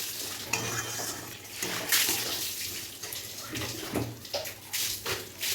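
Soybean and potato curry with stone-ground masala being pressed and stirred in a pan: a continuous close hiss with irregular clinks and scrapes of the spoon against metal, and no voices.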